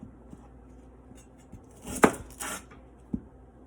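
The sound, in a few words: knife cutting a slit in shallots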